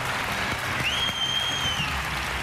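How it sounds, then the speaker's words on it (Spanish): Studio audience applause at a televised singing contest gala, a steady dense wash of clapping lasting throughout with a faint tonal whistle-like line partway through. "Que un aplauso para ellos."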